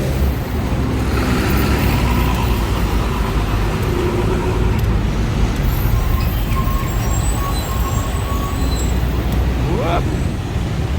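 Buses and other traffic pass along a busy Bangkok city street, giving a continuous loud roadway roar with engine rumble and a brief rising whine near the end.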